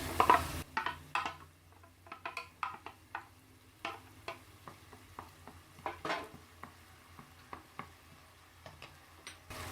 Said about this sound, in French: Maintenant, je vais introduire la tomate hachée.